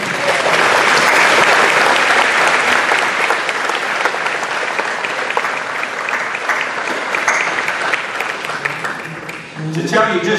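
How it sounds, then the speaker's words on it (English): Sustained applause from a standing audience at a legislative luncheon honoring Rotary Club members, dense and loud for about ten seconds before thinning out near the end. "give you a round of applause and appreciation of all that you do."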